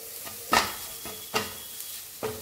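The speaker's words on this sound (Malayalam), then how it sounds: "നമ്മൾ മുട്ട ചിക്കി വെച്ചിട്ടുണ്ടല്ലോ അതും കൂടി ഇട്ട് കൊടുക്കാം" A utensil stirring scrambled egg into millet noodles in a frying pan, three sharp scraping strokes over a soft sizzle, close and clear.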